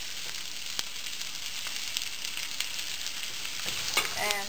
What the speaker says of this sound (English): Now I am adding chopped onion